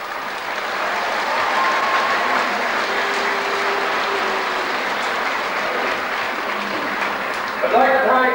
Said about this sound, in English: just a round of applause for Brigids